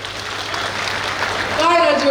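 Dense crowd applause at an outdoor Congress party political rally in Kamthi, steady and loud throughout, with a voice rising briefly over it near the end.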